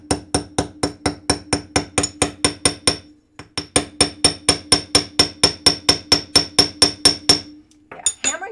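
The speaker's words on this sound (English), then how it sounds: "hammering straight is not something I do, clearly, but there it is" Metal hammer striking a cold connection on a jewelry piece, tapping in a steady fast rhythm of roughly twenty crisp, close blows, with a brief pause after three seconds before the run resumes, then a faint scrape at the end.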